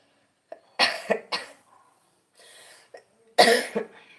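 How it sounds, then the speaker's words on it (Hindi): A person coughs several times in short, harsh bursts with pauses between, fairly close and with no talking. "मुझे खांसी हो रही है।"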